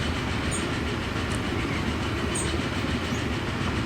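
Trains running on rails in the video game Transport Fever 2, a continuous rumbling roll of wheels with faint clicks and squeaks, steady and moderately close, no voices.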